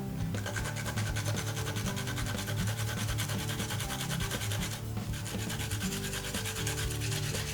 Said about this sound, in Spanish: Rallamos el diente de ajo.